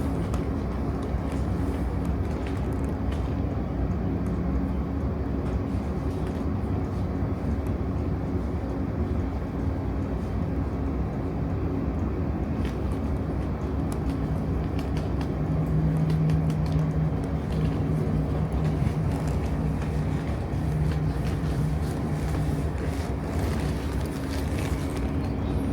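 Steady interior rumble of a British Rail Class 458 suburban electric train in motion, with a continuous low drone and faint hum that stays even throughout, with no talk.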